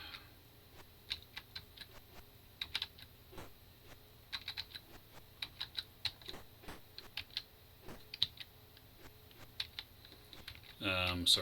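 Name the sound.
computer keyboard keys pressed to play Atari Karateka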